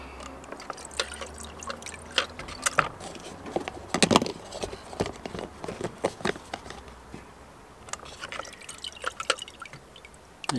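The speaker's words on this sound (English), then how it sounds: "There you go, they're dripping." Water drips from Wagner paint spray tips after they are lifted out of a cleaning container: scattered small plinks and taps at an irregular pace, with soft background hiss between them.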